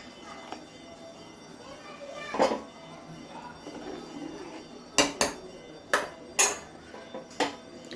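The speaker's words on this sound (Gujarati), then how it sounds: "ઢોકળી નાખ્યા બાદ તમારે એકવાર દાળને સારી રીતે હલાવી લેવાની આ રીતે" A spoon stirring Gujarati dal with dhokli in a metal pot, giving about half a dozen sharp metallic clinks and scrapes at irregular intervals over a quiet kitchen background.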